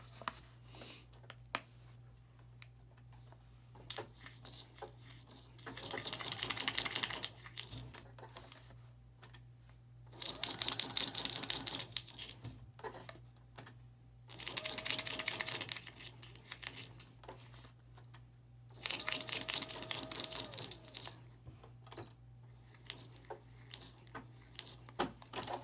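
A sewing machine stitches through paper in four short, faint bursts of rapid mechanical clatter, separated by quiet stretches with a steady low hum underneath.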